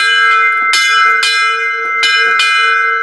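A large victory bell won in a high-school football rivalry game rings loudly and clearly, struck four times with bright, sustained metallic tones that overlap and slowly decay.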